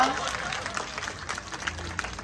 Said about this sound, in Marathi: त्यांच्यासाठी तुम्ही टाळ्या वाजवा